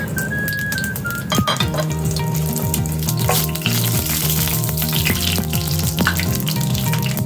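Garam masala dropping into a hot pan while cooking rui fish head muri ghonto with mung dal, amid loud continuous frying sizzle and a few clinks of utensils on the pan.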